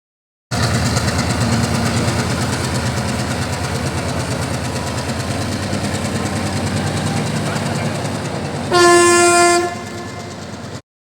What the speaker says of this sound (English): the train slowly inching its way across the bridge